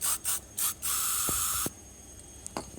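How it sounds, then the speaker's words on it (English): An aerosol can sprays liquid into a cap during an old bench vice restoration, three short close hissing bursts followed by one longer steady spray, then a few faint clicks. "So what I'm going to do is just spray a bit in the cap"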